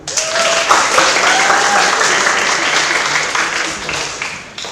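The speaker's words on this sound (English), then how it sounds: "We have done our clap." An audience at a university public debate claps after a team's statement: dense, sustained applause from a crowd that tapers off at the end.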